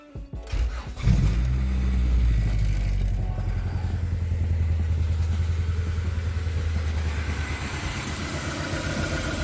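A Honda Accord CB7 engine with a G23 VTEC being cranked and started, then idling rough with a misfire that gives an uneven, lumpy rhythm, heard close and steady.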